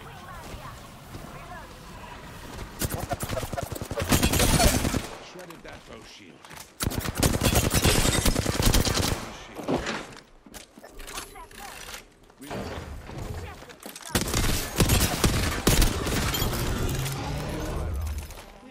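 Video game gunfire with bullets striking close by, loud rattling bursts in several long waves separated by quieter gaps, with a person talking in between.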